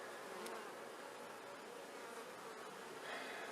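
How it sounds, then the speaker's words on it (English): Honeybees swarming over a heavy, nectar-laden hive frame during an inspection, a soft, even, continuous buzz throughout. "because it's covered in bees"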